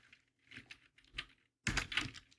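Computer keyboard typing in a word-processing session: short, quiet bursts of rapid key clicks separated by brief pauses, ending with a louder, denser flurry of keystrokes, close up with no talk.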